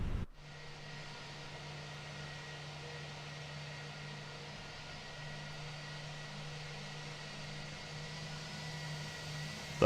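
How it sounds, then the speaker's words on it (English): Steady low airliner APU hum inside a flight simulator game at London Heathrow, a continuous even drone with a faint high whine, alone and unchanging throughout. "the APU is running"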